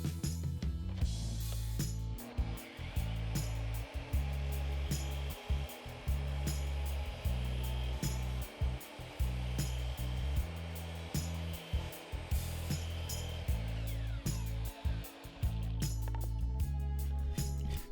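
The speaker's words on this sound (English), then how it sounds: "I'm getting the stop block in place to cut my 1x6 furring strip." A power saw cuts a 1x6 furring strip set against a stop block, a continuous loud motor roar broken by repeated brief dips and clunks as the wood is fed through.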